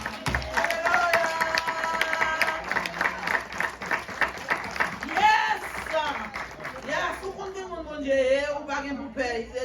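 A church congregation applauds during a French-language worship service, steady clapping that runs throughout and blends with sustained musical tones and voices, with a voice speaking over it near the end.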